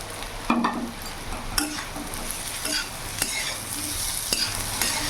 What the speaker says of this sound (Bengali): ছানাটা দিয়ে ভালোভাবে নাড়াচাড়া করে মিশিয়ে নেব। এর মধ্যে কেটে রাখা ক্যাপসিকাম দিয়ে দিলাম।